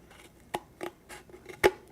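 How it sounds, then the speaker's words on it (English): Scissors snip slowly along a pencil line on a craft piece, a handful of distinct crisp cuts spaced irregularly, close and fairly quiet with no talking. "I'm gonna go ahead and start cutting."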